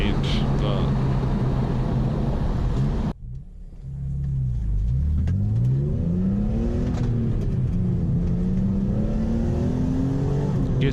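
A BMW E46 M3 with its S54 straight-six revving hard, a brief drop in engine note at a shift, then climbing again through the next gear, loud and close with someone talking over it.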